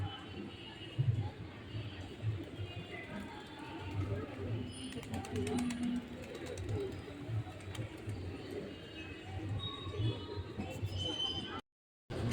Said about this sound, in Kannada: ನೋಡಿ ಎಷ್ಟು ಚೆನ್ನಾಗಿ ಪರ್ವಳಗಳೆಲ್ಲ ಎಷ್ಟು ಚೆನ್ನಾಗಿ ಹಾರಾಡ್ತಾ ಇದ್ದಾವೆ.